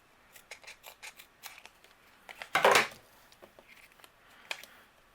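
Scissors trim excess paper from a handmade card with a series of quick, crisp snips. One longer, louder cut comes in the middle, and the sound is close and otherwise quiet.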